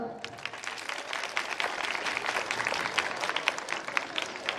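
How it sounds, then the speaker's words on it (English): An audience at a school annual day celebration claps in a dense, continuous round of applause, many hands overlapping in a lively patter that holds steady throughout, with voices mixed in. "Give a big round of applause as we have gathered here."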